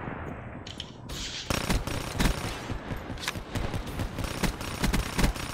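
Rapid bursts of Pharo sub-machine gun fire in Call of Duty: Black Ops 3, loud sharp shots in quick rattling strings with a few gaps, no voices over them.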